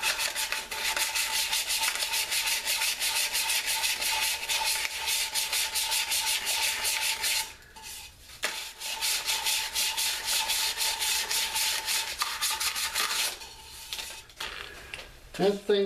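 A dried cherry wood bowl is hand sanded with handheld 220-grit sandpaper, making a steady, close rasping rub that runs almost continuously, with brief pauses around the middle and near the end.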